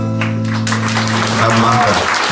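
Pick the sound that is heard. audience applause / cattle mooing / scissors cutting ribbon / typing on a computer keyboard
audience applause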